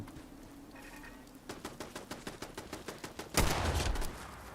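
Automated turret gunfire in Fallout 4, heard as a rapid, steady stream of evenly spaced shots that swells into a louder, denser burst near the end, with no talk over it.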